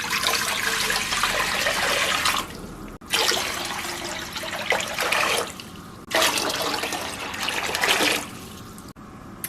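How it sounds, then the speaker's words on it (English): Water pours steadily into a pot on a stove in a home kitchen, a loud close rushing stream in three long bursts separated by brief pauses, with no voices. "I'm going to turn on my stove into a high, and I'm going to come and add my water."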